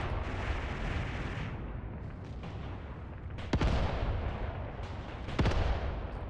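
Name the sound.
mortar fire in video game Mius Front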